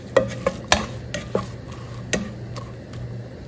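Stir-frying ingredients for sticky rice with sausage: a few distinct spatula clicks and scrapes against the pan over a low steady hum, close and fairly quiet.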